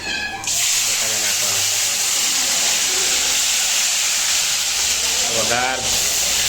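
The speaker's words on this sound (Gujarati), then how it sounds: "જીરું નાખ્યું જીરું હિંગ" Cumin seeds and asafoetida sizzle in hot oil for a tempering, a loud, steady, close hiss running the whole time, with brief voices at the start and near the end.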